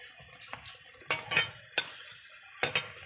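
Flour and rice powder being mixed together in a bowl for a stuffed corn pitha, heard as a few separate scraping, stirring strokes at an uneven pace against a quiet background.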